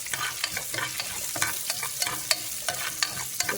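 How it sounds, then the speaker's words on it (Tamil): Spices and garlic tempering in hot oil, crackling as a steady sizzle with scattered sharp pops and spatula scrapes throughout, close and fairly loud. "எல்லாம் போட்டு கொஞ்சம் நல்லா தாளிச்சுக்கோங்க"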